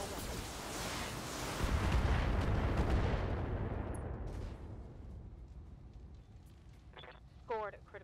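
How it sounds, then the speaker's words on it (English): A BattleTech mech firing all its weapons at once: a long, loud roaring volley of blasts and rumble that swells and then slowly fades away, followed by a few brief electronic chirps and a voice speaking briefly near the end. "Firing all weapons."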